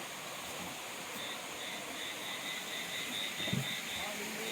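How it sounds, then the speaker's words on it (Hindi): Sukha Jhora waterfall near a Shiv temple in Chanderi, heard from steps a short way off as a steady broadband rush of falling water, with a brief low thump near the end. "मेरे पीछे आप यह झरना देख रहे हैं"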